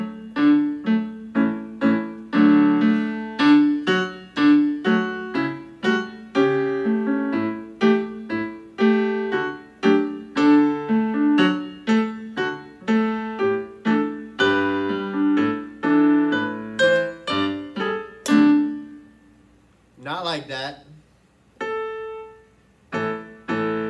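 A bowed string instrument plays a piece in a lively run of short, detached notes with steady rhythm, close and clear, ending in a few sustained tones and a brief glissando.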